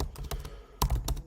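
Quick clattering keystrokes on a computer keyboard, close and fairly loud, in two short bursts separated by a brief pause.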